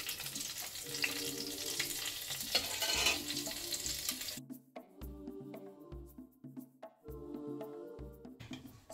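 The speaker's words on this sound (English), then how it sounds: "I've turned it over, frying it on the other side for a little bit" Chicken pieces fry in hot oil in a pan for a stew, a steady crackling sizzle that breaks off midway into quieter, intermittent bursts of frying.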